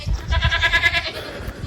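A goat having its overgrown hooves trimmed gives one drawn-out, wavering bleat at moderate distance, with shuffling and handling noises around it.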